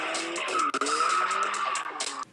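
On Top Gear a car slides through a skid, its tires squealing loudly in long, wavering screeches with engine noise beneath, broken by a short gap and cutting off sharply at the end.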